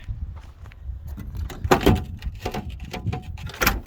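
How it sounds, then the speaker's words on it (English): Door of a classic 1962 Chevrolet Bel Air being worked open, several close mechanical clunks and latch rattles in a short irregular burst, fairly loud, with no talking. "Well, we'll try the other door here."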